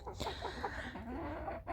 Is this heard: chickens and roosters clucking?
yes